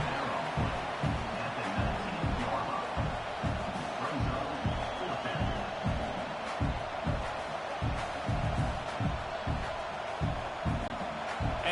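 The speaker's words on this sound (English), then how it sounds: "This crowd trying to do its part to get inside the kicker's head" Stadium crowd in a college football video game, Ole Miss at Auburn, a constant loud roar of massed voices with a regular rhythmic thumping pulse throughout, trying to rattle the kicker before a field goal.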